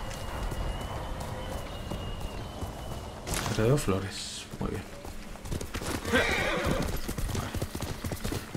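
Rhythmic hoofbeats of a horse clip-clopping steadily in the game Ghost of Tsushima, with a whinny partway through and splashy movement later, while someone talks over it in Spanish.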